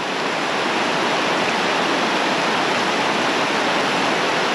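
Steady, loud rush of a waterfall with clear water in Dupont State Forest, a continuous broadband roar from close range with no voices.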